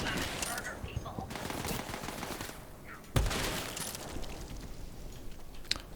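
Gunfire in the video game Borderlands, a dense ongoing fusillade of rapid shots with one louder sharp blast standing out, mixed with game sound effects and under faint speech.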